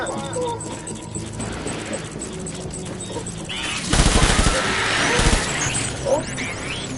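Gunfire in Death Stranding rattles in steady bursts beneath voices and game sound, then swells into louder, denser volleys near the middle before easing back, with faint shots still trailing at the end.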